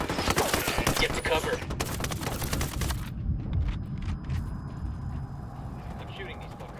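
Gunfire in Ghost Recon Wildlands, loud dense bursts of shooting for the first three seconds, then scattered lighter shots trailing off, with a voice calling out over the firefight.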